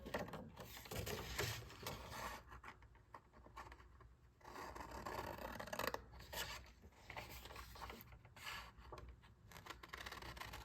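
Scissors cutting a paper quote for a junk journal craft project: quiet, close snipping and paper rustling that runs steadily through the whole stretch, with no talk.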